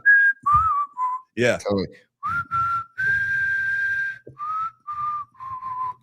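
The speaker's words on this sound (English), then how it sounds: "that might be the one and only time we ever whistle on the show" People whistle on a sports podcast, a series of clear sustained whistled notes, some wavering and one long held tone, broken by a few short spoken replies.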